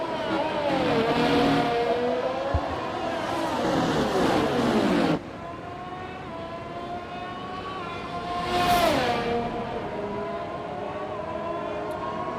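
Racing cars roll through the formation lap at the Baku circuit in a sim racing league race, high engine whines rising and falling as cars pass close, one sharp shift in tone midway, no talk.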